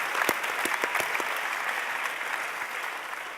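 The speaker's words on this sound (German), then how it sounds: "Can we give a hand to Rich one more time for sharing that?" An audience applauds a speaker at a session, a dense steady wash of clapping hands with a few sharper nearby claps at the start, sustained and fairly loud throughout.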